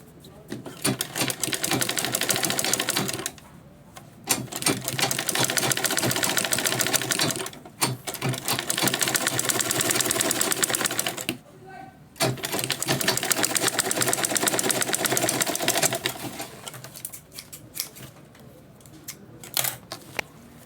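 A sewing machine top stitches both sides of a bag panel in several long bursts of rapid, clattering stitching separated by short pauses, with a voice speaking briefly between runs.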